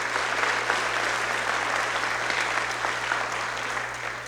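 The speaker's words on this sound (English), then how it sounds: "A round of applause for all the members who have joined us this evening." Sustained, dense applause fills a hall as an evening scholarship night audience claps for city government members standing to be recognized, steady and even throughout.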